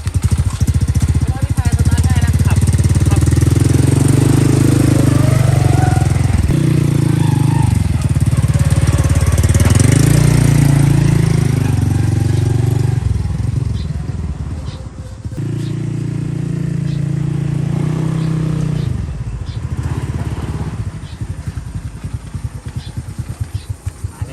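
A Honda Wave 110i motorcycle engine runs close by with a steady, loud hum, rising and falling slightly as it revs, with brief dips in level around the middle and a steadier drone toward the end.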